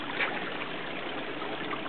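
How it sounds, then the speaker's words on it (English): Water trickling and splashing over stones in a small pool model as the water level rises, a steady close, soft gurgling flow with no other sounds. "We're just starting to get the water rising up, tripping up onto one of the stones"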